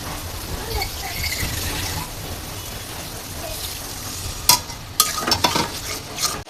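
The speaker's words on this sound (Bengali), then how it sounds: "সামান্য একটু পানি দিয়ে মশলাটা কষানি দেবে" Spice masala sizzles and fries in a pan with a little water for a pigeon curry, a dense close hiss under steady stirring, then sharper scraping clatters of the spoon toward the end.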